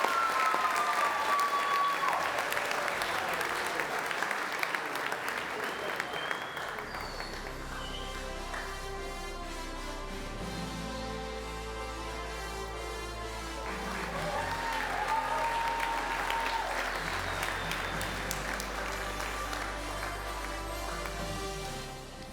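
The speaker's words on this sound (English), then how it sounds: "Let's give a round of applause for Liliana Dutsinko." Applause from the audience at a college athletics awards ceremony for an award recipient, steady clapping joined by background music that swells midway while the clapping carries on underneath.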